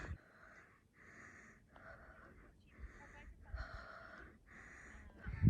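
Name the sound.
heavy breathing after hiking in Joshua Tree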